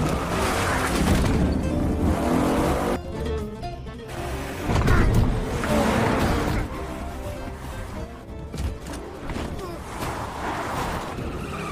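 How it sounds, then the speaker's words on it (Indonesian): Car engine revving and speeding off with tire skids in a zombie film chase scene, loud and continuous with swelling engine bursts and screeching over a dense film soundtrack. "kedua bocah tersebut memacu mobilnya dengan kecepatan tinggi"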